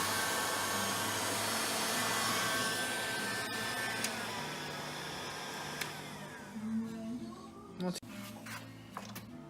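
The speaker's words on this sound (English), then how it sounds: "you're going to take a heat gun" A heat gun shrinks tubing over headlight wiring on a 2010-2014 Ford Raptor, blowing a loud steady whooshing roar with a humming tone that fades out, followed by clicks and handling noises while someone talks.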